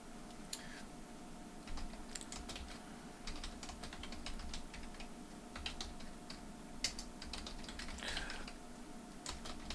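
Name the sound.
typing code on a computer keyboard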